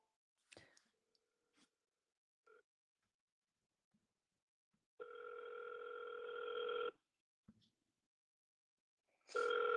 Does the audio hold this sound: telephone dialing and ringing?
yes